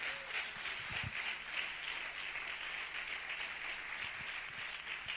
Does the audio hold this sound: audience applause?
yes